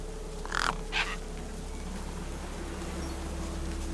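Two loud crow-like caws ring out close together near the start, then a steady low ambient hum fills the rest, from carrion birds hovering near a corpse in the video game Beyond a Steel Sky.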